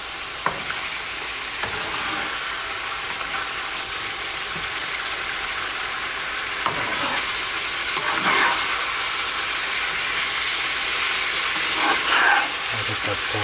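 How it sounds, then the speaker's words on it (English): Chicken pulao frying in a pan is stirred with a steady broadband sizzle, broken by occasional scraping clatters of the utensil against the metal, and no voice is heard. "Now we can stir this up."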